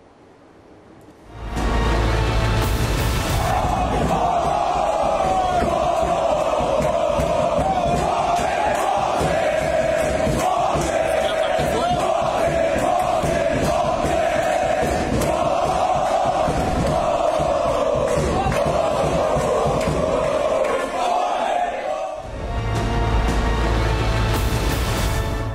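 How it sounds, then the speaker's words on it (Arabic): A large crowd of fans chants in unison outside a footballer's house at night, loud and sustained with a rhythmic, rising-and-falling cadence, starting abruptly and continuing for over twenty seconds. "هنشوف هذه الجماهير وهي بتهتف اسفل منزل مؤمن زكريا"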